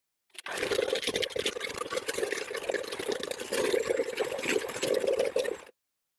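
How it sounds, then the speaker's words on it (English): A fig, date and water mixture being whisked for an air fryer figgy pudding gives a steady, close, continuous sloshing and rattling that runs for about five seconds, with no talk. "I am just going to whisk that all together now"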